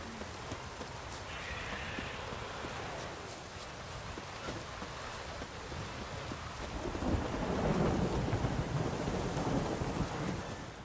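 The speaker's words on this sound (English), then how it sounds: "A storm, damn it." Thunderstorm in The Witcher 3: steady rain hiss with low rumbling thunder that swells louder toward the end, no voices.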